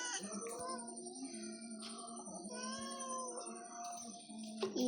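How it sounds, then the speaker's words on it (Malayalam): A cat on a quiet evening gives a few drawn-out, wavering meows and yowls, fairly close but soft, with a long steady tone in the background and no talk. "ഇത് ഏത് പൂച്ചയെന്നറിയില്ല, ഇപ്പം ഇങ്ങോട്ട് വന്നെയാണ്"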